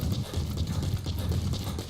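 Quick, rhythmic horse hoofbeats in The Witcher 3 clip-clop steadily at a trotting pace, moderately close, with no voices.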